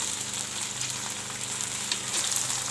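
Okra (bhindi) fries in hot oil with a continuous, close sizzle and a gentle bubbling crackle throughout, with no talking.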